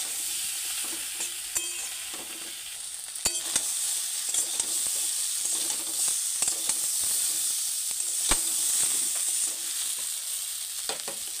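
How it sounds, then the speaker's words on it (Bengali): Mixed vegetables sautéed with spices in a pan, a steady loud sizzle and hiss with frequent scraping stirs and clacks of a utensil, close and continuous with no talking. "আমি সবজির মধ্যেই মশলাটা দিয়ে কষাবো"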